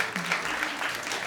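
An audience at a stage show breaks into a brief burst of applause, a dense wash of clapping with a voice faintly under it.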